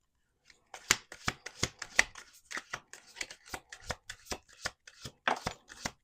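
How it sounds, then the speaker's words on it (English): A deck of tarot cards is shuffled by hand, a run of crisp, rapid riffling snaps and flicks close to the microphone with a brief pause before resuming. "Let's do one more shuffle."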